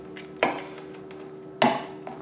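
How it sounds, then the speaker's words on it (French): Butter and icing sugar are worked together in a bowl, with two sharp, close clinks of a utensil striking the bowl, separated by about a second, over a faint steady background hum. "maintenant je vais travailler le sucre avec le beurre un petit moment"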